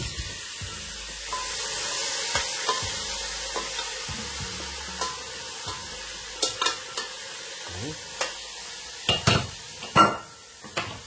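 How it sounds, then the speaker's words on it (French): Meat going into a cocotte for a cabbage potée, with a low simmer hiss under handling, then a run of sharp clanks and knocks of utensils against the pot growing louder toward the end, close by and without speech. "Dans ma cocotte, je vais pouvoir y mettre donc ma viande"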